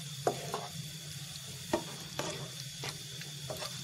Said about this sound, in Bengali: এবার আমি এর মধ্যে দিয়ে দিব 1 কাপ পরিমাণ চিকেন।